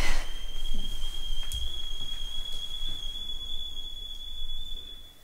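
A steady, high-pitched whistle from a kettle sounds continuously over faint background noise, with a few soft knocks.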